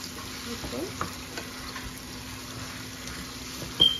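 Chicken pieces frying with onions for chilli chicken make a soft, steady sizzle, fairly quiet and continuous, with a few small clicks near the end.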